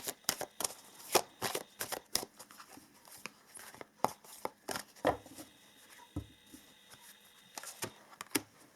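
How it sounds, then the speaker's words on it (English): Herbal oracle cards shuffled by hand in a quiet room, a rapid series of soft, crisp riffling taps and flicks at close range, fairly faint, with no talking. "Let's also pull some herbal cards here."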